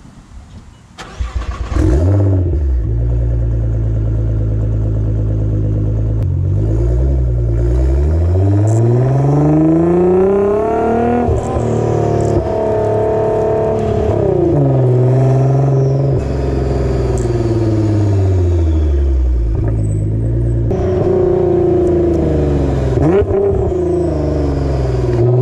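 A tuned Nissan GT-R starts up, then accelerates and revs hard while driving, its engine note climbing and falling through repeated surges, loud and close with no talk.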